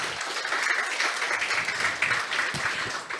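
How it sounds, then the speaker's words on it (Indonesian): An audience at a political leadership training opening gives sustained applause that stays loud and dense for the whole stretch, with many hands clapping together in a large room. "boleh tepuk tangannya"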